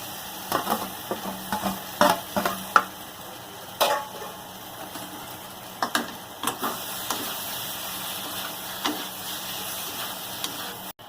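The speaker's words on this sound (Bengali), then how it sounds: "এবার ভেজে রাখা ফুলকপিগুলো দিয়ে কষাবো।" Fried cauliflower and potatoes for an egg curry are stir-fried in a pan, a soft frying sizzle broken by repeated sharp spatula scrapes and knocks at an irregular rhythm, fairly close.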